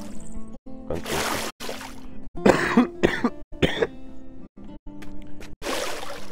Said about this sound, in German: ich werde euch mit meinem Husten ein bisschen die Ohren verlappern